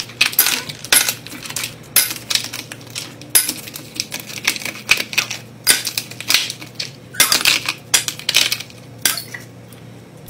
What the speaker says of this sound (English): Ice.